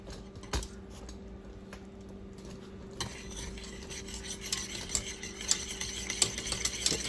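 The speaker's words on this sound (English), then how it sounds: "Whisk, whisk, whisk." Bourbon caramel made with Jim Beam is whisked in a pan: steady, fast scraping and clicking strokes of the whisk, growing busier and brighter toward the end, close up and with no talking.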